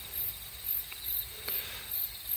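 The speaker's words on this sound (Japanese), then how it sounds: "スズムシが鳴いてます。" Bell crickets trill outdoors in a vineyard on an early September day, a high repeating pulsed chirp rising and falling in regular bursts, fairly faint against quiet background, with a couple of soft clicks.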